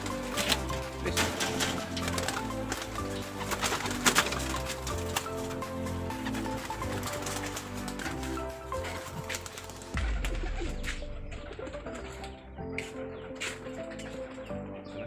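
Pigeons cooing steadily just after release from a loft, soft repeated low coos layered with wing flutters and clatter, fairly close, with a sudden rumble near the end.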